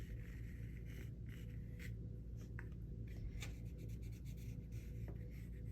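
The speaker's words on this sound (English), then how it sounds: "I want to erase as much of the pencil as possible" An eraser rubbing pencil marks off paper during a painting session, a steady soft scrubbing rasp heard up close over low background hum, with no talking.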